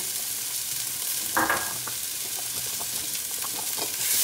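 Chopped onion frying in a pan over lowered heat for spaghetti with clams, a steady bright sizzle with a few soft clicks of stirring, close and continuous with no voices.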